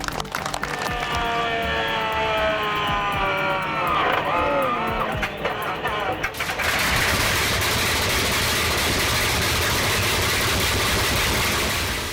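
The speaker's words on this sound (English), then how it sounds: "A rare treasure in the world of radial engines, the H57RC Hercules shines with its circular multi-cylinder layout." A Hercules H57RC radial aircraft engine, a rare circular multi-cylinder design, goes from a rising, whining start-up into a loud, steady running roar that continues to the end.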